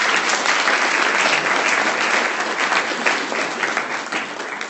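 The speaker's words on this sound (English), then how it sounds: "give us a round of applause for Ms. Nina Strother." An audience claps at an organ donation awareness event at a college, loud and close, a dense continuous round of applause that holds steady and tapers slightly at the end, with no voices over it.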